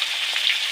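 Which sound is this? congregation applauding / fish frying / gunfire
fish frying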